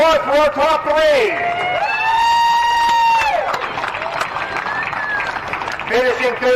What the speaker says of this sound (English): How about a big round of applause for our top three?